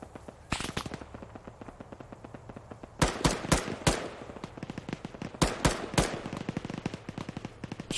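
Arma 3 gunfire: dense bursts of rapid automatic shots with sharp, loud single reports cracking through, sustained volleys of varying distance throughout.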